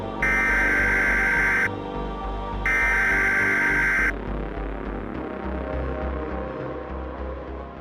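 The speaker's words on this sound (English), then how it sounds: "sharp, beeping tones can be heard" Two loud, sustained electronic beeping tones ring out in a creepy Mario game, each lasting over a second over a low droning hum, then give way to the lingering throbbing drone alone.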